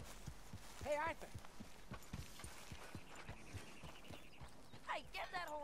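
Rhythmic hoofbeats of a horse in the video game Red Dead Redemption 2 clop along at a steady walking pace, with a couple of brief bursts of a voice over them.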